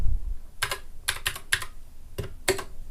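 An Anne Pro 2 RGB mechanical keyboard is pressed in a few distinct, fairly loud key presses spaced irregularly over a few seconds, with no voice.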